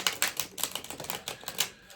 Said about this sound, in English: I'll just give the cards one more shuffle